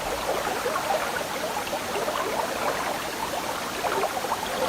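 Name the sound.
stream water flowing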